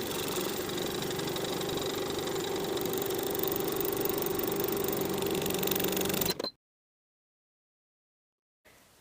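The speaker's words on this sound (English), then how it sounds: "we're going to sew from that top folded edge to the bottom raw edge with a 1/2 inch seam allowance" A sewing machine stitching a curved fabric seam with a half-inch allowance, a steady close motor whir with fast needle chatter that runs evenly, then stops abruptly into silence.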